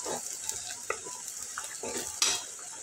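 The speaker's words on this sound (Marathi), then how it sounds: "व्यवस्थित मिक्स करून घेऊ खोबऱ्याबरोबरच" Fried onion and dried coconut stirred in a pan for a spicy Kolhapuri dish, a spoon scraping in soft repeated strokes over a faint sizzle, close and alone.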